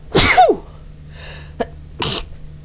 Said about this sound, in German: Aber ich glaube, ich muss niesen.